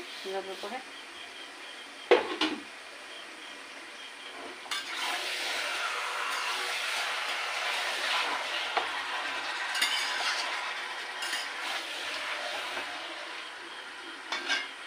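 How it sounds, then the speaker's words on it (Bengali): Whole spices and masala frying in a pan, with a brief scrape of stirring followed by a rising, steady sizzle that stays close and fairly loud, broken by occasional utensil clicks. "এটাকে ভালো করে নাড়াচাড়া দিতে হবে"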